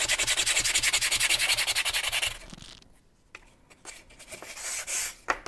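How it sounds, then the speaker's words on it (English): Fine sanding of a wooden model-aircraft wing leading edge: rapid, rhythmic back-and-forth scratchy strokes for a couple of seconds, followed by quieter, scattered rubs and scrapes. "You can always do a little bit more fine sanding"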